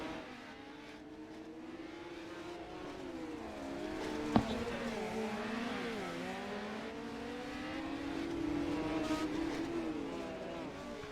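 Midget dirt-track race cars roar around an indoor oval at the Chili Bowl, engines droning and revving in overlapping waves from a distance while a commentator talks over the steady racing noise.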